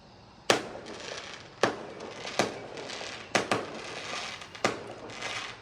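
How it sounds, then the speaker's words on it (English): Fireworks burst outdoors across a city, six sharp booms spaced roughly a second apart with crackling tails between, heard from a distance and fairly faint, with no talking. "Okay, somebody's doing fireworks."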